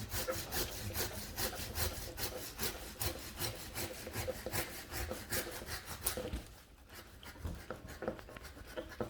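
A hand saw cuts through a Japanese maple bonsai root, close rhythmic rasping strokes in quick succession, slowing briefly before picking up again.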